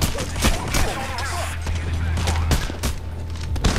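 Gunfire in the video game Payday: The Heist, bursts of shots cracking repeatedly over a steady low hum, while players talk over the action.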